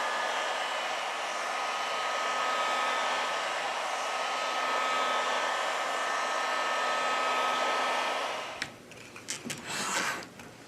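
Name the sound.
heat gun heating a Samsung Note 20 Ultra phone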